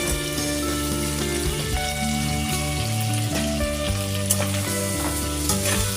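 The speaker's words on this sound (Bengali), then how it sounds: "এগুলো আমার ভাজা হয়ে গেছে, আমি এরপর এই আলুগুলো দিয়ে দেবো" Potatoes and onions fry in hot oil in a pan, making a steady, close sizzle that runs throughout with light stirring crackles.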